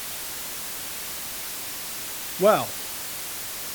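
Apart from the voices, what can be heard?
white noise through Pure Data wave folding patch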